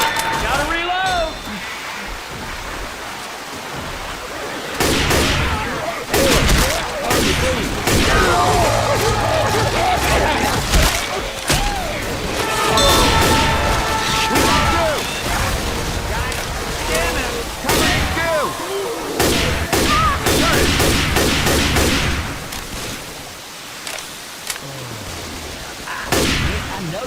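Left 4 Dead 2 versus match with frequent gunshots cracking in clusters throughout, mixed with game effects and people talking over the action.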